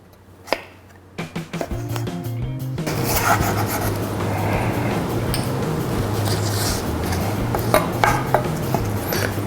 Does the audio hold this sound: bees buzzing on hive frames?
no